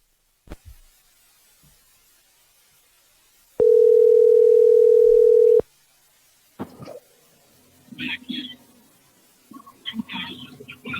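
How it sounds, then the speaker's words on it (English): A telephone dial tone sounds while a call is being placed: one steady, loud, unbroken tone lasting about two seconds. Faint background noises follow after it stops. "So let's give him a call."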